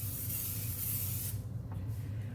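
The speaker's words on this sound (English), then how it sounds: "I'm gonna go ahead and spray the bottom of my pan lightly." A close, steady hiss of Pam cooking spray on the bottom of a pan lasts over a second, then cuts off, leaving a quiet background with a faint clink.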